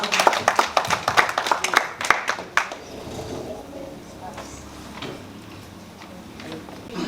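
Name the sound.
round of applause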